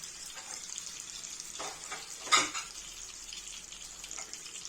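Chopped onion cooks in a pan for savory ground-meat turnovers, producing a soft, steady frying hiss with a brief louder stir or splash in the middle.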